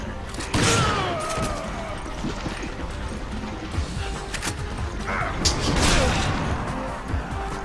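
Shotgun blasts and crashing impacts from the Resident Evil 5 Mercenaries mode with Chris Redfield, several loud bursts amid busy game sound effects and clatter.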